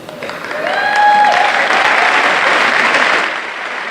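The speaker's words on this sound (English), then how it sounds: "please give yourselves a round of applause, but you beat me to it" Audience applause at an athletic hall of fame ceremony, rising over the first second into loud, dense clapping that holds steady and then eases slightly near the end.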